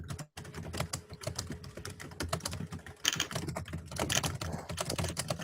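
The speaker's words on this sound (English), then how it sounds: "Somebody's typing." Rapid, irregular clicking of keys on a computer keyboard, fairly close and steady, with a brief pause near the start and no voices.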